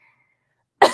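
A single sharp cough bursts close into a microphone after near silence, loud and abrupt, then tails off.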